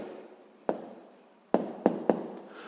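A pen writes an answer on paper for a sixth-grade maths exercise: soft scratchy strokes punctuated by four sharp taps of the pen, close and quiet, with no talking.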